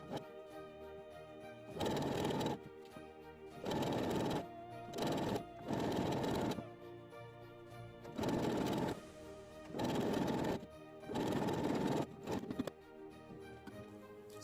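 Sewing machine stitching the back seam of a cowl neck top, in about seven bursts of rapid harmonic whirring lasting one to two seconds each, separated by short quiet pauses, close and steady with no talk.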